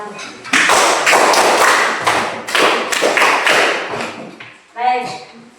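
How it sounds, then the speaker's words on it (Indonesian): A classroom of students gives group 1 a round of applause, a dense burst of many hands clapping loudly and close for several seconds, with a brief voice near the end. "mari kita berikan 2 kali tepuk untuk kelompok 1"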